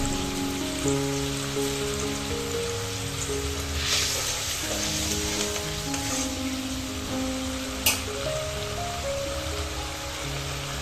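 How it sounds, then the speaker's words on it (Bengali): Fish curry gravy bubbles at a steady boil in a pan, a continuous soft sizzling and popping with one brief sharp click partway through and no voices. "দেখুন ঝোলটা ফুটে গেছে।"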